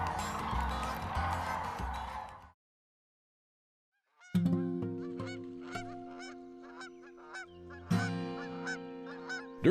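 Resident Canada geese at Reelfoot Lake in northwest Tennessee honk in a noisy burst, then after a silent gap single and repeated honks sound close and clear, building again toward the end.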